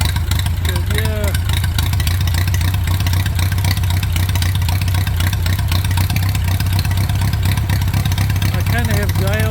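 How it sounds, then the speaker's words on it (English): An Atomic 4 marine engine runs with its carburetor freshly tuned, giving a loud, close, steady idle and a rapid popping exhaust throughout, with brief voices over it. "Kind of have dialed in the carburetor so you hear that pop, pop, pop. It's burning really well."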